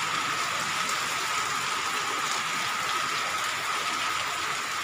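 Heavy typhoon rain from Typhoon Enteng pours down in a steady, dense roar of water on surfaces, loud and unbroken throughout with no voices.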